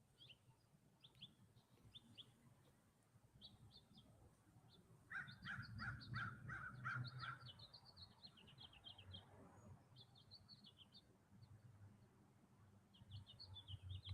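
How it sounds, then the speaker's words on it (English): Crows and other birds call outdoors over a quiet lawn, giving faint, distant caws and chirps that repeat in small clusters, with no talk over them. "You hear the birds?"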